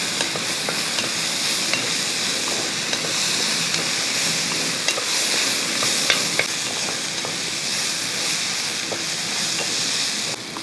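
Chopped tomato stirred into a frying curry base in a pan: continuous loud sizzling with light scraping and stirring clicks scattered throughout, close up and without talk.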